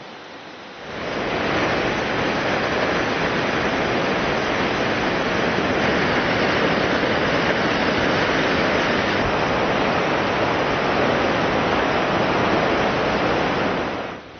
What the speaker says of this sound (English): We took the short hike to Brandywine Falls.